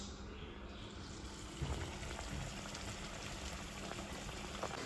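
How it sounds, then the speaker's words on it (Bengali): Oats dahi vada fritters fry in oil with a soft, continuous bubbling sizzle, fairly quiet and even throughout, with no talking. "বড়াগুলো এবার ভেজে নিচ্ছি।"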